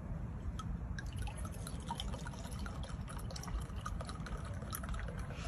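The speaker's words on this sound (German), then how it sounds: "mir einfach mal ein schönes Gläschen auf den Freitag einschenken" Champagne poured into a glass, a steady liquid fill with faint fizzing and dripping at low level throughout, no talking.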